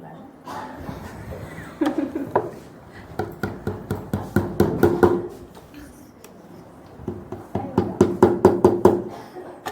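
Folded fabric for a women's pant is tapped firmly in quick bursts of sharp knocks, grouped in short runs with pauses, while a person talks throughout.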